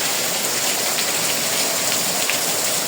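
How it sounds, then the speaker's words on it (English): Steady rain pouring down around a porch being tiled, a dense continuous hiss with occasional brighter drips, loud and even throughout with no voices. "Rainy day."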